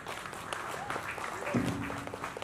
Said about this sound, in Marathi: तर एकदा जोरदार टाळ्या करणसाठी